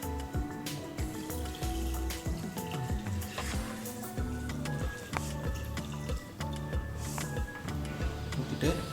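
Leftover whey from homemade paneer is poured into a cooking pot in a kitchen, a steady liquid trickle with drips and clinks under someone speaking.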